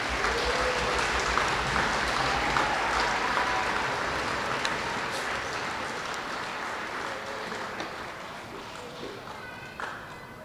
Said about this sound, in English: Round of applause for our fifth grade students.